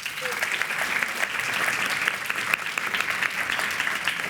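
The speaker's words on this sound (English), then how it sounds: "We should all give a very big round of applause to Julieta Aranda." Audience applause for Julieta Aranda at the close of a panel series in a Basel conversation, a steady dense patter of many hands clapping throughout, fairly loud and continuous.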